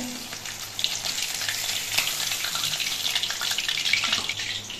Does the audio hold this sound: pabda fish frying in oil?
yes